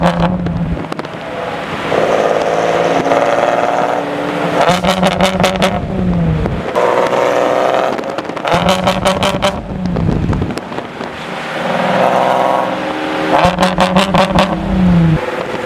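A Nissan 370Z with no tune, set up for two-step launch control, revs loudly and repeatedly: harsh engine blasts in bursts with rapid popping crackles between them, close and aggressive, with wind buffeting the microphone.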